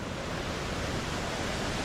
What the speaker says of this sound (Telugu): వెళ్ళే దారిలో కూడా వాటర్ ఫ్లో అవుతున్నాయి